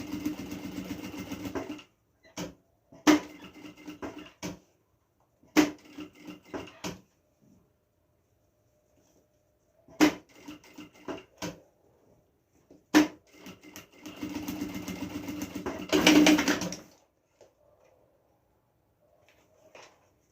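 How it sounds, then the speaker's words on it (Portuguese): A sewing machine stitches around the corner of a fabric document holder in stop-start bursts, running for a few seconds, pausing, then running again, close and steady, with no voices. "Aqui o cantinho você vai fazendo bem devagar, vai costurando e vai arrumando"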